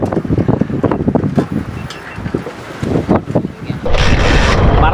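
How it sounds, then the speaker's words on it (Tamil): Strong wind blowing outdoors buffets the microphone in loud, uneven gusts, with a steadier roaring rush toward the end. "வெளியில் அடிக்கிற காற்று இருக்குல்ல"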